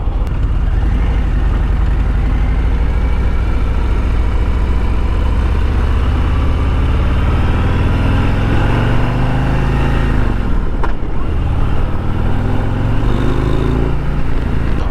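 A Harley-Davidson Pan America motorcycle cruising an open road, its engine a steady loud drone mixed with heavy wind rush, with a brief dip in pitch near the end as the rider eases off and rolls back on.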